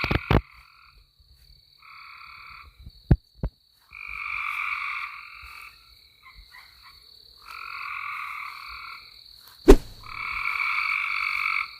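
Frogs croak in loud, pulsing bursts that repeat in a steady rhythm, with a few sharp clicks in between and no voices.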